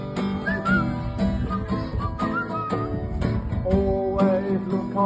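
A person whistles a lively, bouncing tune alone, with clear melodic notes and short rhythmic phrases.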